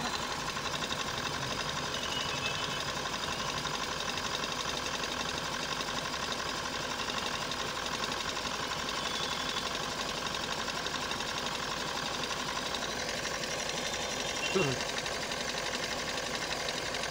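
A Mahindra Bolero diesel engine, one with a starting problem, runs steadily at idle, a continuous mechanical hum and clatter throughout with faint voices in the background.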